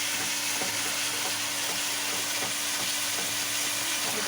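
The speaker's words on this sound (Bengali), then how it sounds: "ভালো করে মশলাটা কষিয়ে নেব। দেখুন কেমন আস্তে আস্তে তেল ছাড়ছে ওপর থেকে।" Spice paste (masala) frying in oil in a pan while being cooked down for a pointed gourd and yogurt curry: a steady, close, continuous sizzle and crackle with faint stirring, and no voices.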